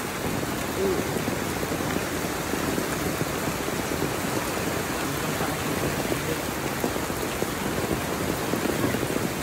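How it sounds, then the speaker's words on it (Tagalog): Dense, heavy typhoon rain pours steadily, a constant loud hiss of drops hitting surfaces with no pauses. "lalong lumalakas yung ulan"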